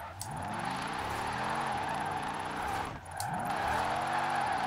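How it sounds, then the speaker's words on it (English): A Holden car all-wheel drifting in Forza Horizon 4 on poor-grip tires, its engine droning steadily while the tires hiss and squeal through continuous slides, with a brief dip in the noise before it picks up again. "It's so weird to all-wheel drift."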